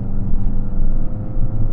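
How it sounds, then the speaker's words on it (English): A five-speed Fiat 500 accelerates at full throttle, not in a low gear, its engine a steady, loud, low-pitched drone from inside the cabin with no talking. "I'm flooring it all the way."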